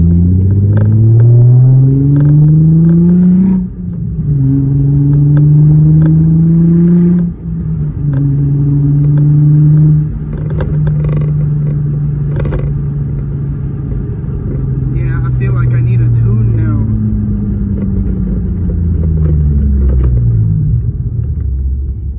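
A six-speed Infiniti G35 coupe with a Kinetix intake manifold at first start-up runs close and loud, its engine note climbing and falling through repeated revs over a deep rumble, with people talking in the background.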